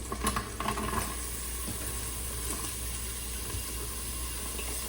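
Onion hitting a hot Instant Pot and sizzling, a steady close hiss of frying with a few stirring clatters near the start, no talk over it.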